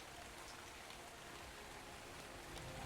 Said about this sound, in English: Oh, and now it's raining here, too.